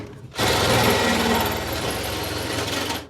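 A power drill starts abruptly and grinds steadily as the bit cuts through material, a loud rough whir that stops near the end.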